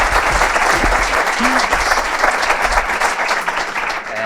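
Audience applause at an awards gala in Ibiza, a dense steady wash of clapping from a hall crowd lasting throughout, with faint voices underneath.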